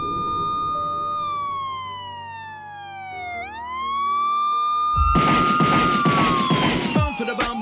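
Wailing emergency sirens from an anti-drug public service announcement, a rising and falling tone that sweeps down and back up, then joined by a loud burst of clattering, rhythmic sound near the end.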